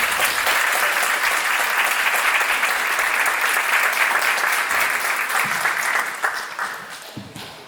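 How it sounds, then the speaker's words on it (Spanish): A crowd at an outdoor community gathering in southern Córdoba applauds loudly and steadily for several seconds, the dense clapping thinning out and fading near the end. "Un aplauso a don Jorge que trae la olla"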